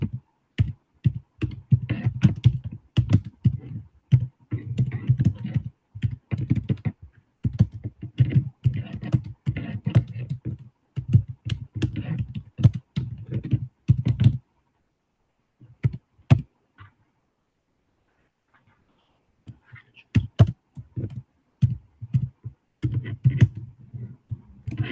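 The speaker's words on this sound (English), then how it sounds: "Open a notepad here and type it inside a notepad" Rapid typing on a computer keyboard while entering text into Notepad, dense bursts of close, crisp key clicks with a brief pause midway, then more scattered keystrokes, no talking.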